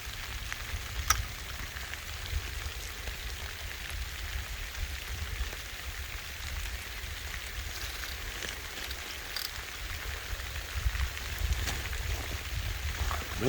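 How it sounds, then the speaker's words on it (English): Steady rain patters and hisses softly on an uninhabited island during bank and boat fishing for catfish, with a low rumble underneath and a few faint drops standing out. "it starts raining again."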